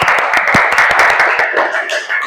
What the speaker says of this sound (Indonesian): kita beri aplaus untuk itu